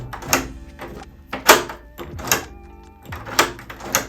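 A pocket sliding door is slid open and shut repeatedly, giving a series of sharp knocks and thuds with rolling scrapes between them, close and loud.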